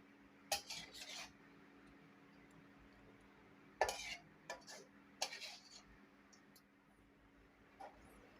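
A spatula scrapes and scoops stir-fried basil squid onto plates, a few faint metallic scrapes and clinks in short bursts separated by quiet pauses, with no talk.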